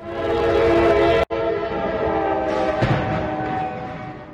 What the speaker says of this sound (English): a train collided with a truck